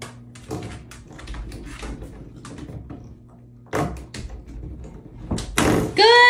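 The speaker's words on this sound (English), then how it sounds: "Close the door." A pet pig pushes a door shut, giving a few knocks and a thud among scattered taps and rustles, while a person nearby talks and gives praise.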